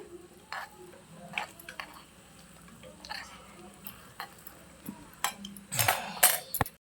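Potato pakoras fry in a tiny miniature-kitchen pan, with faint bubbling under a series of sharp little clicks and taps from flipping, building to louder scraping clatter near the end.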